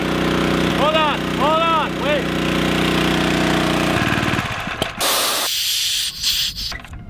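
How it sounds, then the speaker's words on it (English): A dive compressor fills scuba tanks aboard a boat, a loud, constant mechanical drone with hissing. It shifts and breaks up near the end, and a voice speaks briefly over it. "This is our dive compressor. This is how we go diving out here."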